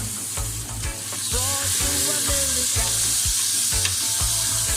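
Beef slices sizzle and crackle as they are stir-fried in a hot pan, with steady frying hiss and rhythmic scraping stir strokes repeating throughout, close and fairly loud.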